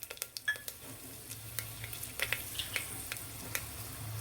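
Mustard seeds, asafoetida, dried red chillies and fenugreek spluttering in hot oil for Gujarati dal dhokli, with a sharp irregular crackle of pops over a low sizzle, close by and with no speech.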